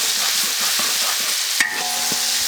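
Dried Sichuan peppercorns and ciba chili paste being stir-fried with ginger and garlic in a wok, with continuous close sizzling and scraping strokes of the spatula and a brief metallic clang partway through.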